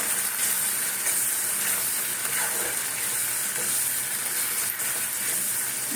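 Vegetables and three green chillies sizzle in a hot pan, a steady, loud hissing crackle that runs unbroken from start to finish with faint stirring scrapes.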